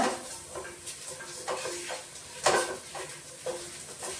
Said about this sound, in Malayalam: നമ്മളതൊന്ന് വഴറ്റിയെടുത്തിട്ട് നല്ലപോലെ ഒന്ന് വഴറ്റിയെടുത്തിട്ട്